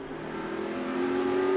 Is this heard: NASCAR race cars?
yes